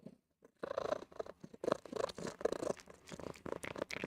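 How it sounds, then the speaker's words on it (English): A cat purrs and scratches close to the microphone, soft rhythmic bursts of purring and rustling scrapes in a quiet room, with no talking. "I hope you enjoy the kitty ASMR."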